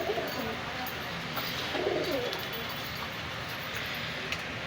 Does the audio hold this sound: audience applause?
no